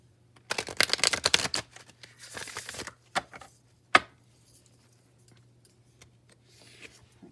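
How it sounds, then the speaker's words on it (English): Tarot cards being shuffled in several brisk, riffling bursts, close up, followed by a few sharp taps and quieter shuffling, with a faint steady hum underneath. "I will go ahead and do some hard shuffles here by request"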